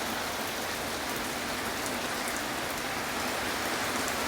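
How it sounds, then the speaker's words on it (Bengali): Steady rain falls nearby, a dense even hiss of drops on surfaces with no break, heard alone and fairly soft. "এটা তো কত সুন্দর বৃষ্টি হচ্ছে।"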